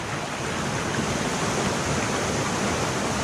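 Steady, dense rush of flowing spring water fills the whole stretch, loud and close, with no pauses or voices.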